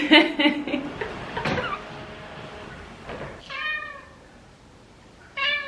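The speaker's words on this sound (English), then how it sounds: "different tones and pitches to her meows" A cat meows several times at varying pitches, close by, with a person talking softly between the calls.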